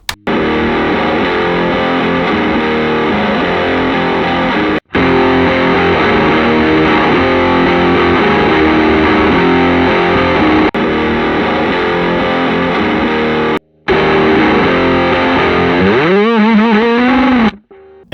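Heavily distorted electric guitar, heard through an RCA 74 microphone impulse response, chugs loud and dense with a boxy, midrange tone, pausing briefly twice, then ending in a wavering, bending feedback-like squeal.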